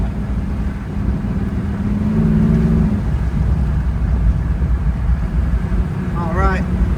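A 1968 Pontiac Firebird 400 convertible engine rumbles low and steady while driving, with a brief rise partway through, heard from inside the car alongside wind and road noise.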